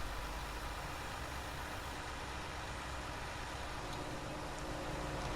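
A wood crusher machine runs in a farming video game, giving a steady, dense mechanical roar with a low engine drone that holds unchanged throughout, with no voices.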